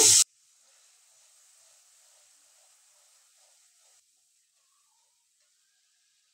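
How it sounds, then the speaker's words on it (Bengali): Water poured into a hot pan of frying cumin, onion and garlic spice paste for a duck curry, giving a sharp loud burst, then a faint steady hiss of steam that fades out after about four seconds. "আমি জিরে পেঁয়াজ রসুন এগুলো কষানোর জন্য অল্প করে একটু জল দিয়ে দিচ্ছি।"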